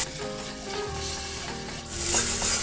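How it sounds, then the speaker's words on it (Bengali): Spice paste sizzles and is stirred in a pan while cooking for a curry of small new-season potatoes, giving a steady close frying hiss with scraping stir strokes and no talking. "ভালো করে মশলাটাকে এবার আমি কষিয়ে নেব।"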